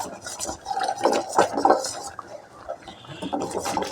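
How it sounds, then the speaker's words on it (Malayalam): A spoon stirs a thickening mixture with coconut oil in a pan, giving close, irregular scraping and wet clacking strokes that swell and fade across the stretch. "അതിന് നമ്മൾ സ്വല്പം വെളിച്ചെണ്ണ ചേർത്ത് നല്ല ഇളക്കണം."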